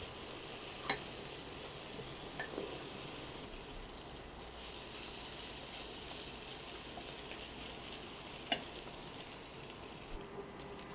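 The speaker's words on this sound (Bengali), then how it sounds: "এখানে 1 চামচ ভরে ভরে আদার পেস্ট আর 1 চামচ ভরে রসুনের পেস্ট দিয়ে দিলাম। এই সবগুলো একসাথে খুব ভালো করে ভেজে নিব এখন আমি।" Ginger and garlic paste with grated garlic and onion frying in a pan for a mutton or beef curry, a steady close sizzle running throughout with a couple of faint spoon taps.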